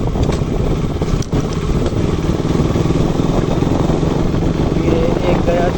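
A motorcycle riding along a road in India, its engine droning steadily and loudly throughout with shifts as gears change, wind noise up close and a rider talking over it.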